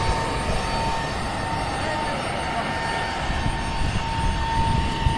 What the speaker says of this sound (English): Feeney, we got the very first A321 Neo